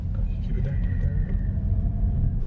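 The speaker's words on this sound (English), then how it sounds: "So we're driving now through Kruger National Park" A car driving through Kruger National Park gives a steady low engine and road rumble, close and continuous, with people talking over it.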